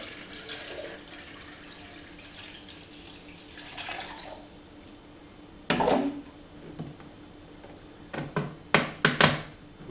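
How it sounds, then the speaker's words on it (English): Water drains by gravity from an O3 Washer food-purifier basin through its outlet valve into a jug after mushrooms are washed; a quiet trickle runs, then splashy gushes and sharp pours burst in near the end. "just pour it, and using gravity all the water is obviously released from the basin"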